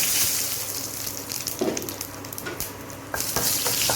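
Dried red chili and cumin seeds hit hot oil for a Bengali bottle gourd dish with fish head, a loud bubbling sizzle with splattering crackles and occasional stirring.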